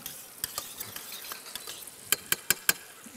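Seasoned venison noisettes searing in a very hot pan on a stove set to high, a steady soft sizzle with several sharp clicks of utensils against the pan.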